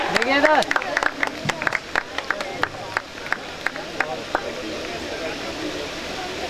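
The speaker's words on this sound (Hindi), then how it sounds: "जोरदार तालियों के साथ" An audience at the Arogyashri health fair of 2017 claps for a guest being introduced on stage. The clapping is loose and scattered, with separate sharp claps that dwindle over several seconds against a background murmur.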